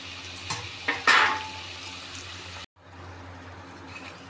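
Crushed peanuts tipped into a pan of frying cabbage, with a few clattering pan and utensil knocks over a low sizzle that drops briefly, then resumes as a softer steady fry.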